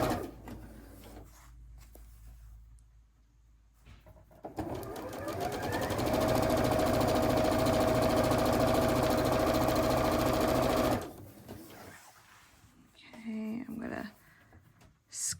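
A sewing machine runs a quarter-inch seam through quilting fabric strips, a loud, steady whirring stitch lasting about seven seconds, with someone talking before and after it.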